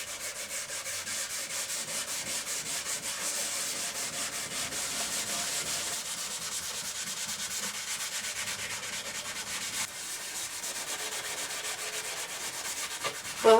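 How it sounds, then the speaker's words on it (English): A scouring pad rubs soft wax onto a wooden workpiece in a workshop, giving a steady, close scratchy swishing that runs continuously with little change in level. "I'll get some wax on it using a scouring pad and see what happens next."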